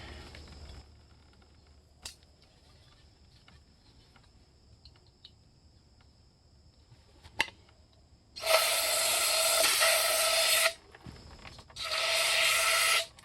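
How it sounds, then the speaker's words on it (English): Aerosol brake cleaner hisses loudly in two sustained bursts, one long and one shorter, spraying metal chips out of a 135 Massey Ferguson spindle bushing bore after quiet shop sounds with a couple of sharp clicks. "So now we're going to rinse this out with some brake cleaner."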